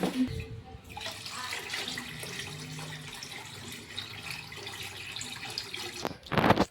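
Water is poured into a pot on a gas stove, running steadily for several seconds with a continuous splashing rush, ending in a louder burst of splashing near the end.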